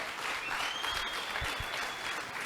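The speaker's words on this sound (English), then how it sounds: "A round of applause." Steady crowd applause, moderately loud and even throughout, with a faint high whistle-like tone drifting above the clapping.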